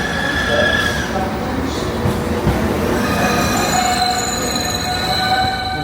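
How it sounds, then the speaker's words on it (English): A Holyhead passenger train pulls out of Shrewsbury, its wheels squealing steadily over the rails with a continuous rolling rumble, heard close from on board and without talk. "We're leaving Shrewsbury now"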